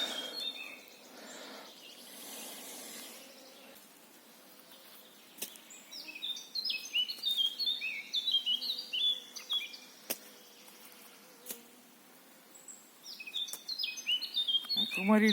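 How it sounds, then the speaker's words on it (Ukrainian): A small bird sings in a forest during mushroom foraging, with repeated bright chirping phrases in two clear bursts, fairly close, against a quiet woodland background with occasional handling clicks. "тут пташка наспівує"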